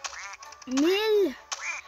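A loud, drawn-out cartoonish duck quack from the video game Mario + Rabbids Kingdom Battle rises and falls at the center, framed by shorter quacky calls before and after, sounding synthesized and close.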